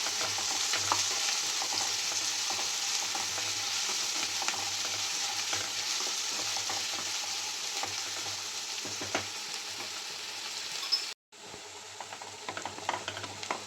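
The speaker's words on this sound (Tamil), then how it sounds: "வெங்காயத்தை வதக்கிடலாம்." Chopped onion sautéing in a pan with cumin seeds while making sweet potato chapathi, a steady close sizzle with scraping stirs throughout and a short break near the end.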